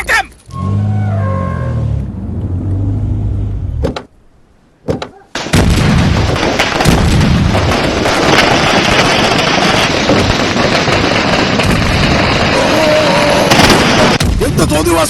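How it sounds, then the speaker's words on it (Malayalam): Firecrackers burst at a wedding: a dense, loud barrage of cracks and booms, close by and almost continuous. A voice is heard briefly before it, then a short lull. "എടാ, പടക്കം പൊട്ടിക്കൽ നിർത്തണം."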